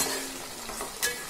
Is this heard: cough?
no